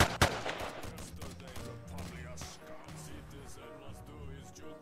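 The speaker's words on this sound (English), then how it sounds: "I just got shot for no reason." A rapid burst of gunfire in the Roblox video game, with a sharp first shot followed by fainter rattling shots at moderate loudness, without speech.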